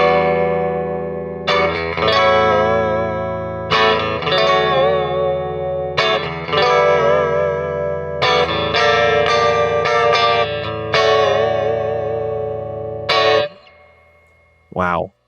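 Electric guitar strummed in several loud, distorted phrases with thin low end and chorus-like shimmer, separated by brief pauses, ending in a short slide; a Johnny Marr signature Jaguar with its series bass-cut setting engaged.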